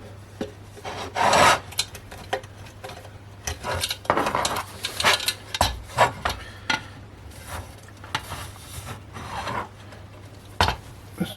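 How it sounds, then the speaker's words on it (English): Hand deburring of a freshly drilled hole in a metal case for a Naim-style power supply build, using a large drill bit by hand: repeated short scraping, rasping strokes in bursts, close and fairly clear, with no talk. "And I'll just deburr that."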